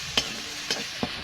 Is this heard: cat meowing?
no